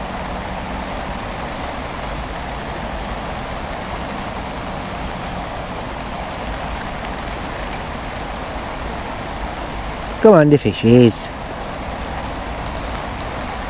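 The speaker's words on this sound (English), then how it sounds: "Not stopped bloody raining yet." Steady rain falls at a fishing lake, an even, continuous patter on the surface. Partway through, someone briefly speaks over it.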